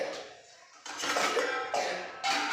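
Kitchen dishes clatter and rattle as they are set out, a dense run of clinks and scrapes close by after a brief quieter moment.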